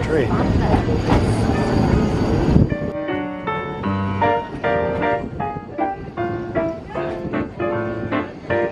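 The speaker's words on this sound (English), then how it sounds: "Here comes the other train." A steam heritage train pulls in at a station in Wales, its rumbling rolling noise loud and close at first, then giving way to clanking carriages and a steady tonal hum as it slows, with people talking nearby.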